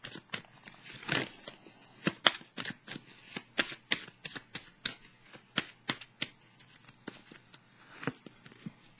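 Tarot cards shuffled and laid down on a table, a steady run of crisp slaps and riffles with irregular rhythm, close and fairly quiet, without speech.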